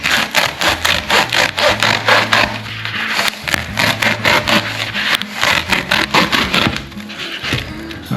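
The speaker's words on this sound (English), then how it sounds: "I'm going to cut it in two. And I can use my Japanese saw, or you can use the hacksaw." A Japanese saw or hacksaw cuts a Dollar Tree item in two, giving loud, rapid back-and-forth wood-like rasping strokes that run steadily throughout, close up, with no talking.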